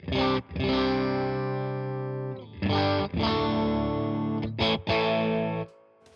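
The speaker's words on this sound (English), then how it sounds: "Bit of reverb on there, other than that, nice and clean." An electric guitar with a clean tone rings out several sustained chords with a light reverb tail, each strum followed by a brief break.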